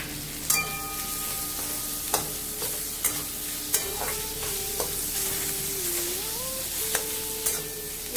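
Onions fry and sizzle in a pan for a fish kalia, with a steady hiss and repeated sharp scrapes and clanks as a spoon stirs them, close and without talk.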